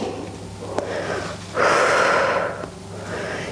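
Deep breathing in and out during a yoga practice, heard as one long, loud, airy exhale close to the microphone over a soft, steady background.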